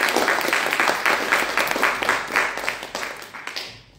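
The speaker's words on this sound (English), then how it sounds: "Please give him a huge round of applause" Audience applause at a lunchtime talk, a dense, steady burst of many hands clapping that fills the room before tapering off and fading out near the end.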